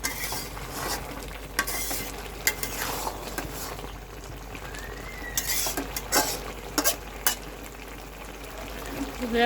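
Spices are stirred round into a sizzling leafy-vegetable chorchori in a pan, with frequent scraping and knocking of a metal spoon against the pan over a continuous frying hiss, close and fairly loud.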